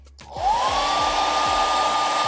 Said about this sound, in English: I'm just going to hit it with a blow dryer just to get a little tacky.